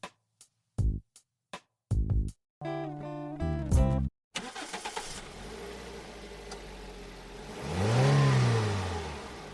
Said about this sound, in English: That, of course, is the sound of an internal combustion engine.